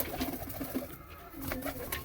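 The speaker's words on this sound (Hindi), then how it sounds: "पंजाबी सारे कबूतर तड़कते फड़कते कबूतर हैं भाई" Punjabi Ludhiana-breed pigeons coo softly in a quiet, steady series of low burbling calls, faint and slightly distant, over a light background hum.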